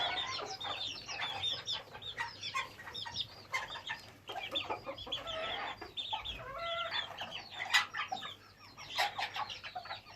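A flock of backyard chickens and a rooster pecking at scraps of spicy lahmacun, with busy overlapping clucks and squawks and a few louder calls standing out, close by and without talk.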